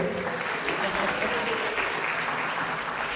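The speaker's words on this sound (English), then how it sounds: "Let us all give a huge round of applause now as we allow the graduates, speakers, and faculty to leave the room" A dense, continuous wash of audience applause at a university graduation commencement ceremony, sustained and fairly loud throughout, with a faint murmur of voices mixed into the clapping.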